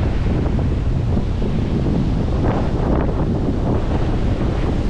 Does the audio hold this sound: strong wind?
yes